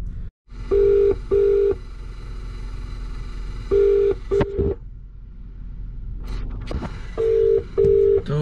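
An unanswered phone call rings out in repeated paired electronic tones, two short beeps, then a pause, then two more, clear and steady over a faint room hum.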